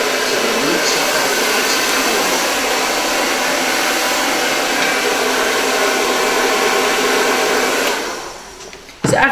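A hair dryer blows steadily and loudly while hair is styled with a brush, then cuts off near the end.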